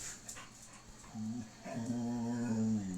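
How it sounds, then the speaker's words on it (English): A dog whimpers and whines to be let out, a few soft yips at first and then sustained high, wavering whines that grow louder, close by with no talking. "my dog wants out."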